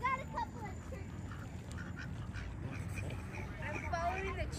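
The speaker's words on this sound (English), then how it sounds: "Geese. That's a geese." A flock of geese honking outdoors in a residential community, several nasal calls scattered through a noisy background, with people talking over them.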